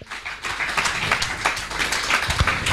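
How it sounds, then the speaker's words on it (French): A church congregation breaks into lively applause during a sermon, a close, dense clatter of many hands clapping steadily for nearly three seconds, with scattered voices and cheers mixed in. "Applaudissez un peu le roi des rois."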